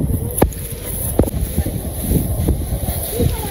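Strong wind blows across an open village outdoors, a loud steady rush with buffeting gusts against the microphone and people talking under it.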